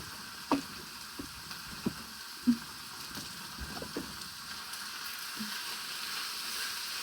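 Hamburger frying with onions and garlic in a pan, a steady soft sizzle throughout, broken by a few sharp spatula scrapes and knocks against the pan.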